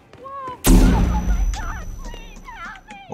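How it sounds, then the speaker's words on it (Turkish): A bomb explodes in Hitman 2 with one loud, sudden blast that rumbles and decays over a couple of seconds, with voices talking before and after it. "Bomba attılar."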